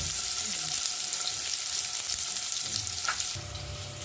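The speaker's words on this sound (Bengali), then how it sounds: "আলুটা দিয়ে দিলাম" Potatoes fry in hot mustard oil with bay leaf and whole cumin for a cabbage dish, a loud, continuous close sizzle that softens slightly toward the end.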